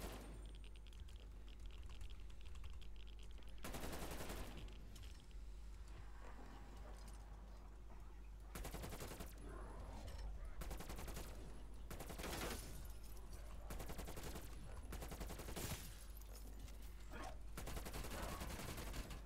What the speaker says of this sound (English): Hand cannon is a one shot